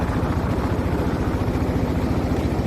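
Speedboat engine droning steadily on the water at the end of a ride, a continuous low rumble with a faint rhythmic pulse, fairly loud and close throughout.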